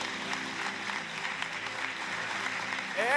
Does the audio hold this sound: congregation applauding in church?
yes